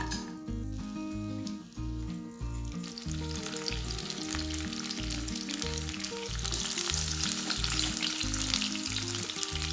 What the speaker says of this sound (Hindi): अब हमने किशमिश को फ्राई करना है